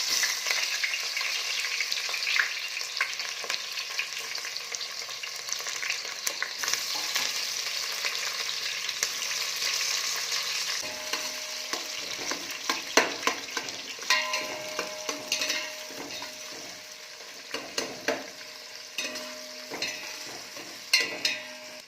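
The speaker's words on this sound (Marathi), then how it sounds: "आता आपण त्याच्यामध्ये कांदा आणि मिरची टाकून घेणार आहोत" Steady, dense sizzling of onion and chilli frying in hot oil, with occasional sharper crackles and stirring clinks toward the end.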